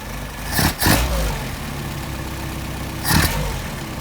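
A car engine fitted with Solex carburetors idles at 700 to 760 rpm, a steady low rumble close by, broken by two brief louder surges.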